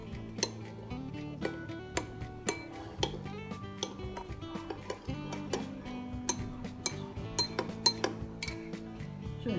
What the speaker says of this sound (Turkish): Salçamızı çok iyi ezelim.